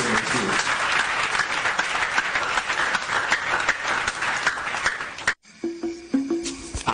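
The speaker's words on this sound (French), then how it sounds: "Vraiment, s'il vous plaît, applaudissez pour ces messieurs." Audience applause at a formal ceremony at the Palais de la Nation, loud sustained clapping for about five seconds that cuts off abruptly, followed by a short burst of voices and lighter noise.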